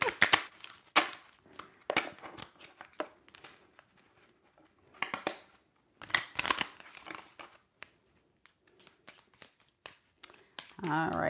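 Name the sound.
shuffling a brand new deck of shadow work cards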